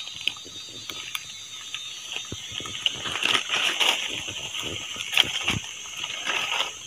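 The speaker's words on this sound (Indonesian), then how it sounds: "Kalian dengar sendiri teman-teman, suara geriang." A steady high-pitched buzzing of cicadas fills the air in a Kalimantan forest, with scattered clicks and rustling underneath.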